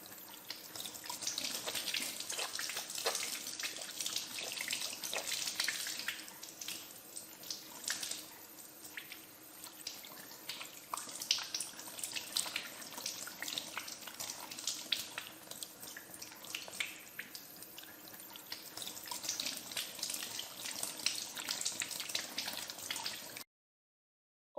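Tap water runs steadily into a sink while hands are washed, with continuous splashing and small drips close by and no talk, in a food-industry hygiene setting.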